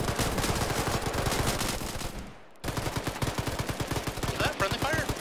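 Relentless rapid gunfire in a ShackTac military video game, dense automatic bursts filling the whole stretch with only a brief pause, loud and close, with faint voices underneath.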